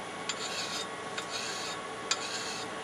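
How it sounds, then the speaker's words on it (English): A blade edge is sharpened on a diamond sharpening stone: a faint, steady rasping rub with a few slightly sharper strokes repeating at an uneven pace, with no voices. "it's a diamond sharpening stone"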